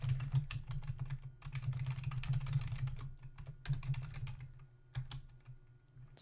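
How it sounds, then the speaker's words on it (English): Fingers typing a drush command on a computer keyboard, a quick irregular run of soft clicking keystrokes with short pauses, close and fairly quiet, alone without speech. "I'll go ahead and type out the full one so you can see that both work."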